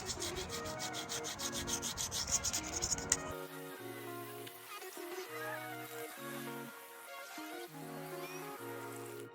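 A razor blade scrapes old head gasket material off an engine block deck, giving rough, steady scraping strokes over the first few seconds before background music takes over.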